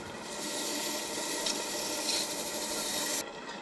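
Fine abrasive polishing of a maple vase spinning on a wood lathe, a steady soft rasping rub that holds evenly for about three seconds and then drops off.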